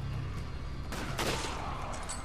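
Gunshots fire in the cooperative game Resident Evil 5, two or three sharp cracks around the one-second mark over a constant low background hum, with no voices.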